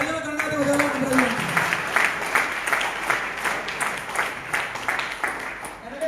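Audience applause at a COVID warrior award ceremony, a steady wash of clapping throughout with a voice briefly audible at the start.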